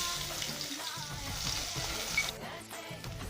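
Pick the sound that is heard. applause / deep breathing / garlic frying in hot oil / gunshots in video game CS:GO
garlic frying in hot oil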